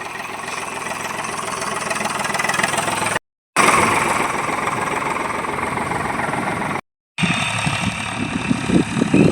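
A farm tractor's engine runs at a steady idle, a loud, continuous mid-to-low chug broken by two very short dropouts.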